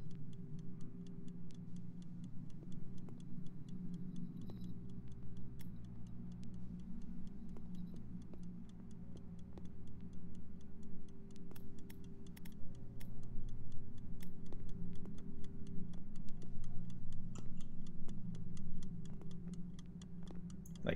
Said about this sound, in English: Where is this clock?